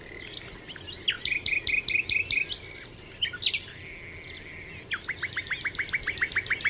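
Clear bird calls: rapid series of sharp repeated chirps in bursts, fairly close, over a quiet background with faint insect hum.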